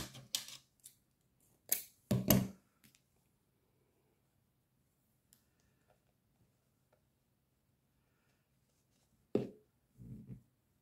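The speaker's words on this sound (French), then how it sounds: "Je les coupe en deux." Scissors snip sticks in half with a few sharp, close cuts near the start, a long near-silent pause, then a couple more snips toward the end.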